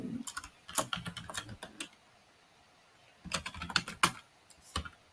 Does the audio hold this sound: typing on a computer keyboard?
yes